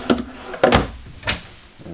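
An RV kitchen drawer on a 2021 Grand Design Solitude 390RK is opened and closed indoors, giving three close, sharp wooden thunks and slides spaced about half a second apart.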